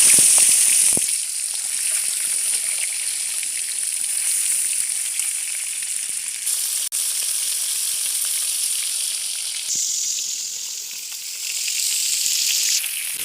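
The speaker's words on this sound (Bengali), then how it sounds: "বন্ধুরা, তেল গরম হয়ে গেছে, আমি এখন মাছের মাথা দিয়ে দেব।" A rohu fish head fries in hot oil for muri ghonto, a loud, bright, steady sizzling hiss heard up close, briefly dipping and swelling with no speech.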